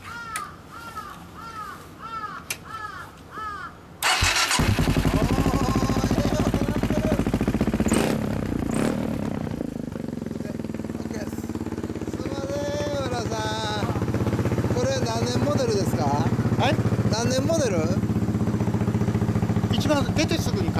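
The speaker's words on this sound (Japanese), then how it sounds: "もうエンジン音だけ先聞かせてもらえますか？" Crows caw at first, then a 2007 Kawasaki ZZR1400 (Ninja ZX-14) with a K Factory exhaust starts up close and loud and runs in a steady, rumbling idle with slight rises. People talk over the engine.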